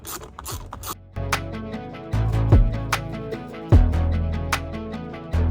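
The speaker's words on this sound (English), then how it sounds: "I'm gonna just remove the 2 bolts in the back" A ratchet loosening the rear seat bolts inside a BMW E90: close, crisp clicking strokes repeat in quick runs, with occasional heavier knocks as the bolt turns.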